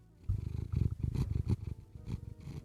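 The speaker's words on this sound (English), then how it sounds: "Is her purring picking up?" A cat purrs steadily up close, a low rhythmic rumble pulsing with each breath, with no voices.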